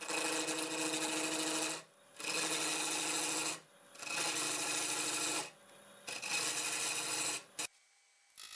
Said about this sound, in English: Use a half inch bowl gouge about 800 RPM.